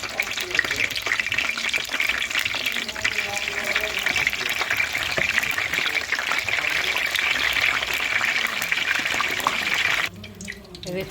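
Steady, dense sizzling and crackling of eggplant frying in hot oil, continuous and fairly loud, cutting off abruptly near the end.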